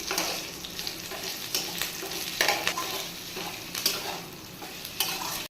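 Potatoes for a yogurt-based aloo sabzi sizzle and fry in a pan while a utensil stirs and scrapes through them in several distinct bursts against a steady soft crackle.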